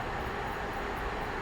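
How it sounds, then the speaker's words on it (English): Rail singing beneath a Southeastern Class 375/3 electric train on the Medway Valley Line in Train Sim World, a dense steady roar with a faint high metallic whine over the running noise. "You can also hear rail singing as well."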